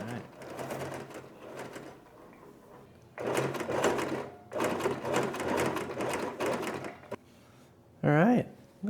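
A sewing machine runs a straight stitch down a seam on a clown costume's front pieces, motoring in several close, steady bursts separated by brief pauses.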